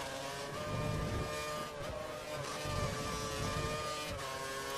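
Steady high-revving Formula 1 engine drone from the racing game F1 2013 at the India Grand Prix, continuous and loud with slight pitch dips, heard alone without talk.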